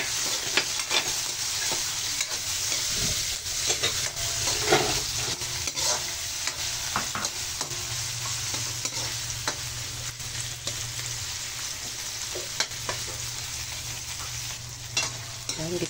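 Onion, garlic and ginger sautéing together in a pan before mussels are added: a steady, close sizzle and crackle with intermittent scrapes of stirring, continuous throughout with no voices.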